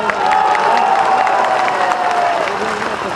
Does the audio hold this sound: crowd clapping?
yes